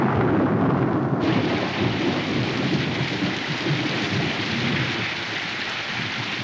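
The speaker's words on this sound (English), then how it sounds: "Could be raining." Rain and thunder as a sound effect in the 1974 film Young Frankenstein: a loud, dense downpour hiss with deep rolling thunder rumbling beneath, fading slightly toward the end.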